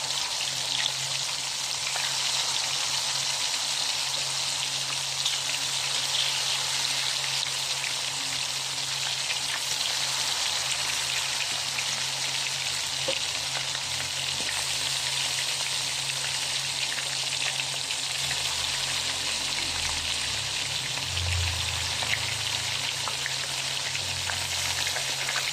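Calamares, blood and isaw (chicken liver) frying on a street grill, giving a steady, dense sizzle like light rain that runs unbroken throughout, close and fairly loud, with no talking.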